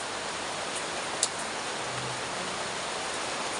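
Steady rain falls on leaves in a mountain setting, a broad even hiss that fills the whole clip with one brief tap near the middle and no talking.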